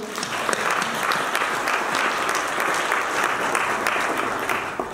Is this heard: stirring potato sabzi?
no